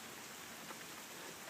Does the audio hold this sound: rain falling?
yes